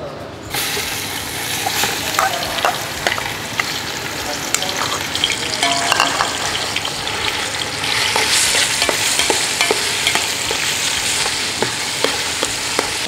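Cooked ash gourd sautéed in a generous amount of ghee for halwa: a loud, continuous sizzle with frequent scraping and stirring of a spoon against the pan and no talk.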